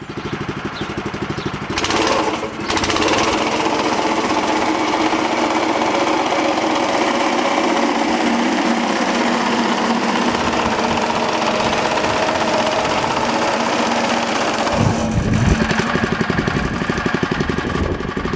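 A John Deere 1025R compact tractor engine warming up runs steadily nearby, a constant buzzing idle with a few brief changes in pitch and intensity.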